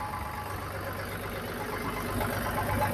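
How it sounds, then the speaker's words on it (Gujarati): A tractor engine idles as a quiet, even rumble that grows slightly louder toward the end. "મનીષભાઈ જો ટ્રેક્ટર અંદર નાખો ગાઈસ"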